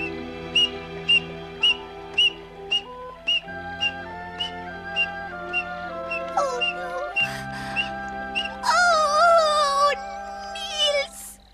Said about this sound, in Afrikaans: Wie fluit so?